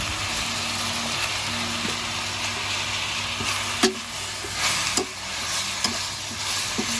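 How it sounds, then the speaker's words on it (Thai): Cabbage is stir-fried with fish sauce in a pan, giving a loud, constant sizzle broken by sharp clacks and scrapes from the spatula as it is tossed. "ผัดไปเรื่อยเรื่อยแล้วจนแบบ กระหล่ำอ่อนแล้ว"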